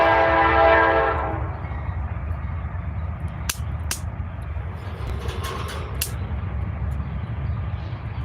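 A train passes near a home, heard from indoors: its horn blares at the start over a steady low rumble, followed by continuous rolling rail noise and a few sharp metallic clanks. No one speaks.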